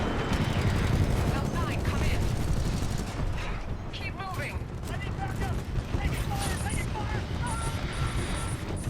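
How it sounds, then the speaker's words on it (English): A Titan's machine gun in Titanfall 2 fires in sustained loud bursts, dense rattling shots with heavy booms, while someone talks over the combat noise. "So we've got a machine gun here."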